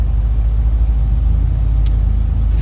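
Truck engine held at a steady low rumble while backing up in rear two-wheel drive only, its broken front U-joint leaving no front drive on the ranch, droning loud and close with one brief sharp click near the end and no talk.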